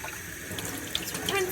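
Tap water runs steadily into a kitchen sink as strawberries are rinsed, a soft continuous splash with a few brief droplet sounds near the end.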